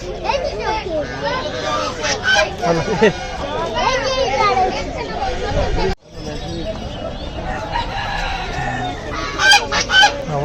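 Ducklings and fowl honk and quack repeatedly at a rural village market, loud and close, with children's voices and chatter mixed in throughout.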